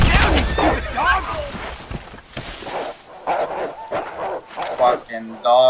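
Dogs bark and yip in the Western video game Red Dead Redemption, rapid loud barks mixed with someone shouting over them and other game sounds, with clipped electronic tones at the end.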